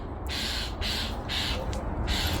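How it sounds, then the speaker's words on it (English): A pet bird squawks in four loud, harsh bursts close by, each call roughly half a second long, repeated in a steady rhythm over a constant background hiss. "That's the only time he squawks like that."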